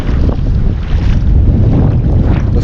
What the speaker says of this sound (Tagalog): malakas yung alon mga boss